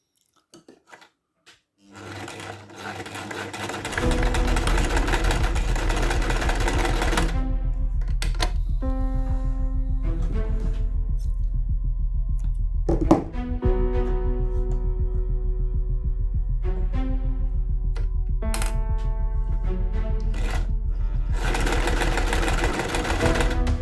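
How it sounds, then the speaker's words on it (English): Sewing machine stitching fabric for a child's shirt: the motor whirs up after a quiet start and runs steadily and loudly, with a few pauses and thunks between stitching runs. "We make a stitch here of 1 centimeter and also a stitch here of 1 centimeter."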